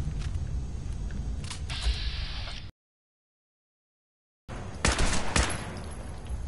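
Bursts of game gunfire in Fallout 4 fire close and loud, with a dense rapid volley early on, a sudden cut to silence, then another sharp cluster of shots.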